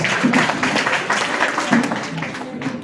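An audience at a poetry gathering gives a burst of steady applause, dense hand clapping filling the hall for a few seconds alongside a faint voice.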